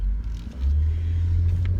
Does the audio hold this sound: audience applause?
no